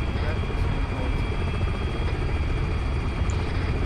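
Helicopter rotor throb and engine roar in a military video game, a loud continuous low rumble with steady whine, sounding close, with radio-style voices talking over it.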